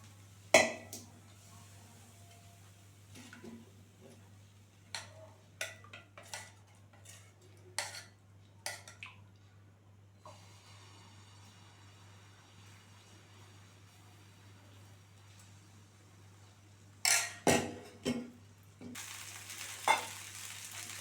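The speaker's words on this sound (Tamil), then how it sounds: "ஈஸியான முறையில் தோசை சுட்டுக்கலாம்." Wheat dosa batter cooking on a hot stone griddle, with soft sizzling in the background and a series of sharp ticks and scrapes from a utensil, followed by a burst of louder frying noise near the end.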